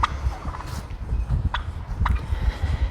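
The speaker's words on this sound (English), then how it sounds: "As you can hear, the turkeys are sounding off." Turkeys gobble in a flurry of several short, rattling calls at close to moderate distance, with some shuffling and footstep-like thumps underneath.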